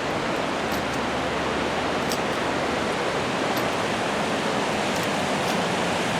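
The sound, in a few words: waterfall at a dam after heavy rain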